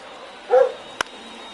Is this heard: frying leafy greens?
no